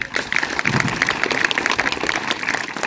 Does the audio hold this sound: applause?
yes